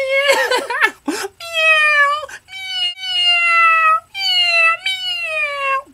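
A person imitates a cat, giving a series of drawn-out, whiny meows, loud and close, with short gaps between them.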